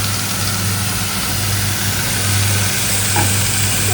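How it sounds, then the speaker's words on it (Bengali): Mushrooms sautéing with garlic and green chilli in a hot pan, giving a continuous, steady sizzle with a low hum beneath it, close and moderately loud, with no talking. "এবার মাশরুমটা সতে হচ্ছে"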